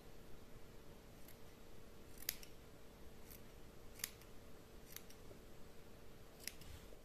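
Scissors snipping away excess fabric during garment sewing: about six or seven short, crisp cuts spaced irregularly over a steady faint background hum, close and quiet, with no talking.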